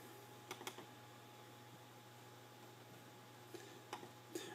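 Keystrokes on a computer keyboard, a few quick clicks near the start and another short cluster at the end, faint and close, separated by a long quiet stretch over a steady electrical hum.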